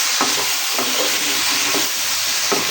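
Okra (bhindi) is stirred with masala in a hot pan, a dense hissing sizzle with several scraping strokes of the spoon, close and fairly loud.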